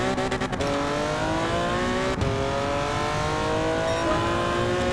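Porsche 917 race car in a racing game, its engine droning loud and steady at high revs through a lap, with a brief shift or bump partway and no talking.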